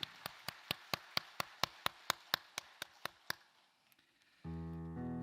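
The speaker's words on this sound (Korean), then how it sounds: "박수 올려드리겠습니다." A church congregation at a Sunday service claps in a steady, evenly spaced rhythm, about fifteen sharp claps that stop abruptly, followed by a short quiet gap before a sustained musical tone enters.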